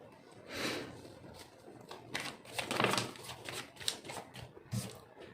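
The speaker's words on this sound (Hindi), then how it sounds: "मैंने कार्ड शफल कर दिए हैं।" A deck of tarot cards being shuffled by hand, with riffling bursts and soft flapping swishes in a quick, uneven rhythm, close and fairly quiet, with no talking.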